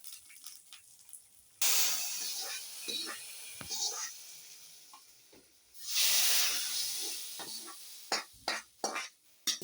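Mustard seeds, dried chili and curry leaves sizzling in hot oil for sambar, sharp hissing bursts that flare loudly twice, with popping crackles between them and toward the end.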